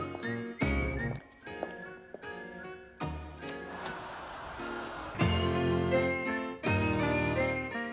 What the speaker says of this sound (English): There's something slightly funny sounding about that whistle. I wonder if it's being played on the Fairlight, like she sampled a whistle